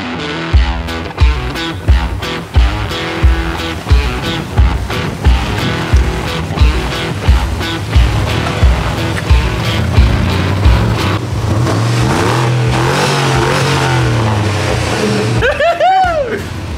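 A Jeep WJ with a 4.7 litre Hemi drives along, its engine droning loudly and steadily with rhythmic pulsing and a rising whine near the end, while people talk over it.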